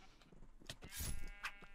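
A sheep bleating in the Minecraft video game, heard as a few short nasal bleats close by with a louder cry in the middle, over light background game noise.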